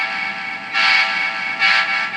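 Horn from a Kato HO scale Union Pacific SD38 model locomotive with a Tsunami Blunami sound decoder: a steady, loud, close horn tone that swells into two stronger blasts, the second one short.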